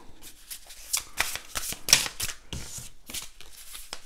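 Tarot cards are shuffled and handled close by in a series of brisk riffling and sliding bursts. Brief gaps separate the bursts, and no one speaks.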